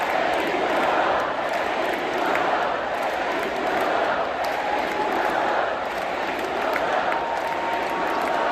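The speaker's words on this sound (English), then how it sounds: "Just listen to the crowd cheering on Joe Biden." A large convention crowd at the DNC cheers and applauds for Joe Biden, a dense, steady roar of many voices and clapping that holds loud and continuous throughout.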